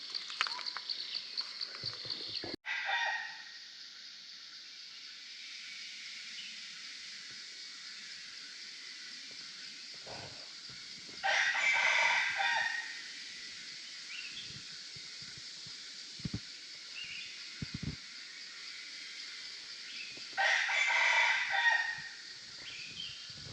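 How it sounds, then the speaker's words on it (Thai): A rooster crows three times at a distance, each call a drawn-out, rising and falling cry set apart by long pauses over a steady background hiss. "ได้ยินเสียงไก่คันอยู่ทางเทิงบ่ได้ไกล"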